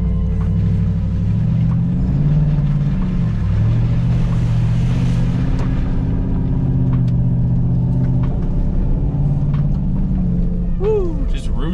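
A 2021 Chevrolet Silverado Custom Trail Boss pickup drives through mud, its engine a loud, steady low drone that swells as it pushes on, with someone talking over it.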